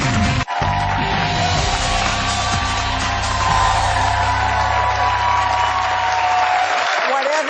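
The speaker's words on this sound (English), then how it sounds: "we hear a smattering of applause from our enormous audience" Applause from a large studio audience at a daytime talk show, a dense steady clatter of clapping that holds for several seconds before dropping off near the end, with some crowd noise mixed in.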